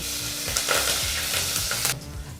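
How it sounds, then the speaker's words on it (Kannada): Dry and green chilies with curry leaves fry in oil over a low flame, giving a dense close sizzle with crackling pops and a spoon scraping the pan before the hiss suddenly drops. "ಒಂದು ನಿಮಿಷ ಇದನ್ನೆಲ್ಲ ಲೋ ಫ್ಲೇಮ್ನಲ್ಲೇ ಫ್ರೈ ಮಾಡ್ಕೋಬೇಕಾಗತ್ತೆ"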